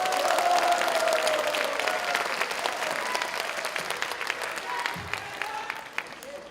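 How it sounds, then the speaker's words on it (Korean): Audience at a party convention and joint candidate rally giving sustained applause, a dense crowd of clapping that stays loud and steady before tapering slightly toward the end. "박수 한번 보내주십시오"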